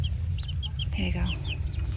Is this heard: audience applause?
no